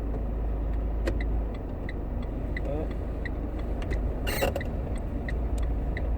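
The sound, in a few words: car driving and turning left during a driving lesson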